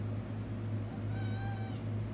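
A pet cat meows once with a drawn-out, rising and falling cry, close by over a steady low hum from a bowling game playing in the room.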